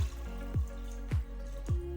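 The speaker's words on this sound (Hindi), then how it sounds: "2 गिलास पानी डालेंगे," Water is poured into a cooking pot of chickpeas for chana pulao: a steady liquid wash broken by three distinct splashing glugs, each about half a second apart, close and moderately loud.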